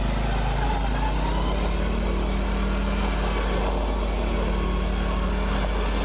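Engine of a Murray riding lawnmower with a welded differential, droning steadily and loud while the mower slides, with shifting pitch and no voices.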